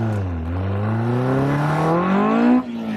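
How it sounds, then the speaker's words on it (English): A Duratec-powered Indy R car accelerates hard, its engine note climbing steadily for about two and a half seconds before cutting off abruptly, loud and close with no talking. "Light the tyres up, not a problem."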